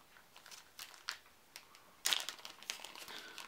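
Star Wars: Imperial Assault game cards are drawn from a plastic bag, producing close, irregular crinkles and rustles, with a louder burst of crackling midway.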